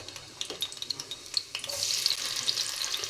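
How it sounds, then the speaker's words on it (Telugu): Chopped onions and green chillies drop into hot oil in a pan for a mushroom and drumstick curry. Light clinks and stirring lead into a rising, hissing sizzle that stays close and steady, with no talk. "నూనె అయితే కాగిన ఇందులోనే ఉల్లిపాయలు పచ్చిమిరపకాయలు వేసుకుందాము."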